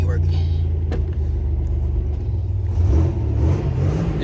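A Buick Grand National's engine rumbles deep and steady as the car drives, with a slight rise in revs partway through, while someone talks over it.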